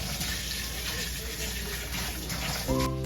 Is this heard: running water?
yes